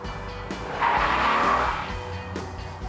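Small tuned Honda import car skidding, a loud tire squeal swelling for about a second amid engine noise, then fading into a continuing motor drone, with no one talking.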